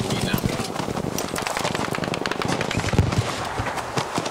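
Horses gallop in a Battlefield V breakthrough match on the Fjell 652 map, their hooves making a dense, fast clatter. Scattered gunfire and shots mix in, and players talk over the noise.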